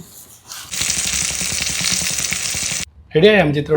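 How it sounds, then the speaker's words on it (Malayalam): Loud sizzling of garlic frying in a hot pan for a couple of seconds, then a voice speaks right after it cuts off. "ഈ വെളുത്തുള്ളിയും പൊരിച്ച് വെക്കട്ടെ"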